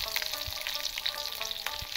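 Black cumin seeds and slit green chillies frying in hot oil for an eggplant and hilsa curry, a soft crackling sizzle with small pops and a stirring scrape, heard alone at low volume.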